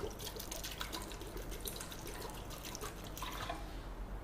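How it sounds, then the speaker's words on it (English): Water poured from a container into a pressure cooker holding pieces of drumstick, a soft, faint splashing and trickling that runs steadily throughout without speech. "I'll be adding about 2 cups of water, which I will retain after pressure cooking the drumstick"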